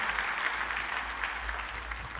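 Lively, sustained applause from a church congregation during a sermon, dense and even clapping with a low hum underneath.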